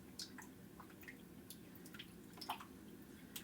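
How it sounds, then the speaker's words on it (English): Quiet splashes and drips come from a squeegee being rinsed in water, with scattered small wet sloshes and trickles over a low background. "I'm going to clean off my squeegee really quickly in the water"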